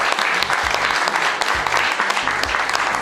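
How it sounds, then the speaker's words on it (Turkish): Sustained, dense applause from a crowd cheering a national leader after a lift of the world's lightest barbell, loud and steady throughout with no pauses. "Kendisini alkışlatmayı ise ihmal etmiyor."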